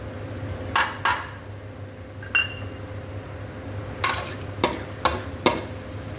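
Kashmiri chilli powder and pav bhaji masala frying in oil for tawa pulao, a steady low sizzle broken by several sharp scrapes and clinks of a spoon stirring against the pan.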